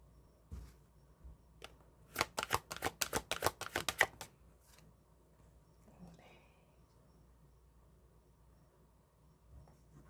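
Tarot cards are riffled and shuffled in a quick burst of crisp, close snapping flutters, followed by a few soft card handling rustles in an otherwise quiet room.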